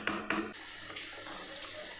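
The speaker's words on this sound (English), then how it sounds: "At lagyan natin ng 1 cup of water." A cup of water poured into a pot of chicken tikka masala during cooking, a steady splashing gush with a couple of stronger surges at the start, fairly quiet and close.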